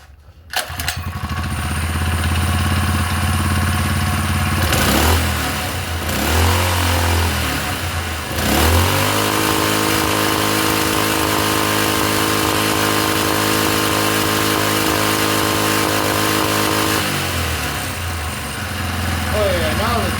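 A 4-stroke engine sputters to life and then runs with a loud, sustained drone. The throttle is opened and eased several times, so the pitch rises and falls, and voices speak over the running engine.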